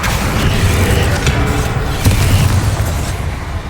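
A Confringo fire spell explosion in the video game Hogwarts Legacy, a loud, sustained, rumbling boom with deep low-end roar lasting a few seconds, heavy and close.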